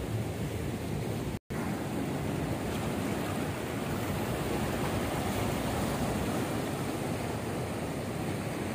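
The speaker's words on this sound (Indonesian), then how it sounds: "Ombaknya datang gede banget." Big ocean waves roll in at Karang Tawulan beach, a dense, constant roar of surf and wind that stays loud throughout.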